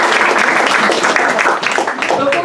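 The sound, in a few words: audience applause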